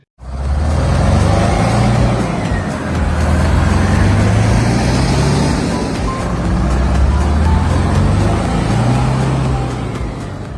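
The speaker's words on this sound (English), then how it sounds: "This OSHKOSH P15 that set a 6th Guinness record started up and roared loudly." An Oshkosh P15 airport fire truck's engine starts and roars loudly, a heavy deep rumble that holds steady and close with slight surges in pitch, running alone without talk.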